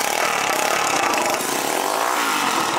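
An engine running with no exhaust fitted, straight-piped, gives a loud, harsh, raspy drone that stays steady and close throughout.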